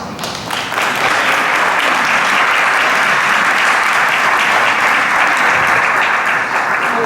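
Sustained applause from a conference audience after a keynote lecture by a doctor at an institutional environmental program event, dense and steady throughout with no talk over it.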